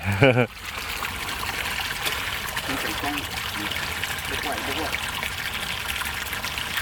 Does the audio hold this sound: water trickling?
yes